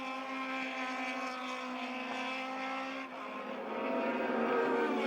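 Formula Atlantic race cars at the Race City Calgary circuit in 1990 drone past with a sustained high-revving engine note that swells as the cars come closer.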